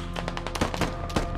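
Video game gunfire during a close-quarters squad gunfight in Fallujah: a rapid string of loud, sharp shots in irregular bursts, dense and close throughout.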